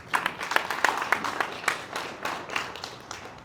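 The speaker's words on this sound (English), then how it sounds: "That deserves a round of applause." Scattered audience applause at a small-city state of the city address, with distinct individual claps standing out near the front and a thin, uneven rhythm that tapers without fully dying out.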